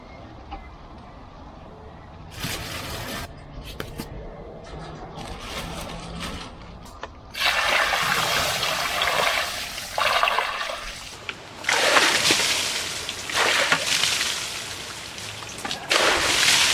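Water sloshes and splashes in a bucket full of live eels beside a swamp, with irregular bursts of churning and trickling that grow louder and busier in the second half.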